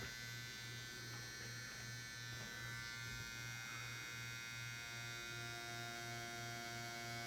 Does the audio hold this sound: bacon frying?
no